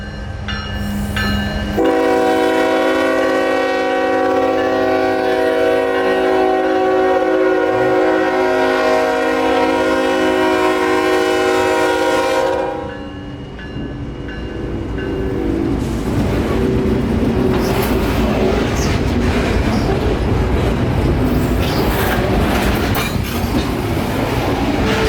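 Freight train 0823 hauling loaded Tropicana reefers, with scrap gondolas at the rear, rolls north into Yeoman Yard, its horn sounding in long sustained blasts before the steady rumble and clatter of passing cars take over.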